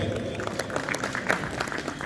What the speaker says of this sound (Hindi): तो उनके लिए भरपूर तालियां आगे हैं